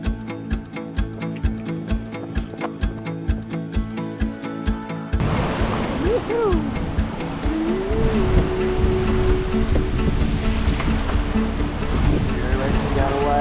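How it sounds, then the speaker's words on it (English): Big ocean swell on the Tasman Sea under a Cheoy Lee 52 motorsailer: a steady rhythmic engine-like pulse gives way to a loud, continuous rushing wash of water, with a voice speaking over it. "Pretty big wave. Very big wave actually."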